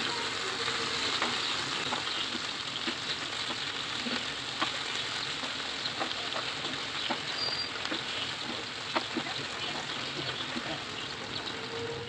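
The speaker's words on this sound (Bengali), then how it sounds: "আমি আরেক পাশটা এখন উল্টিয়ে দিচ্ছি। এই পাশটা ভালোভাবে ভেজে নিব।" Fish sizzling steadily in hot oil in a pan for a fish bhuna, being flipped to fry the second side, with a continuous close crackle and scattered pops and no voices.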